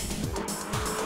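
A drifting car on a track gives a sustained high tire squeal over a roaring engine, loud and close, in one continuous burst.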